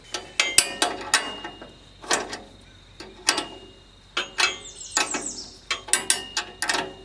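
A ratchet wrench clicks in rapid bursts while bolts come off a Wood-Mizer LX25 sawmill, with short pauses between runs of close, sharp metallic ticking.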